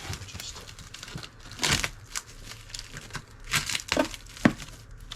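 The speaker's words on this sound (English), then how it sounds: "let's get the other box open and have a look at the new torch" Box packaging for a new R-Tech TIG torch is opened, with close crinkling, tearing and rustling of cardboard and plastic in short irregular bursts.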